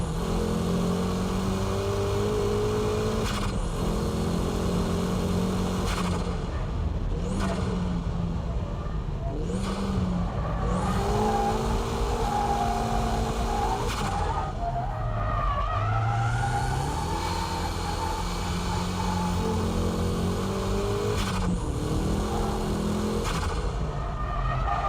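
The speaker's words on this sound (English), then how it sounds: "Here I'm power drifting at the exit." Race car power drifting out of corners, the engine revving hard through rising and falling gear pulls while tires skid and squeal at length, close and loud, with brief gaps between runs.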